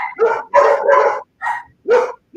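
Dog barking in short bursts indoors, several close, loud barks and yips in an uneven rhythm with brief gaps between them.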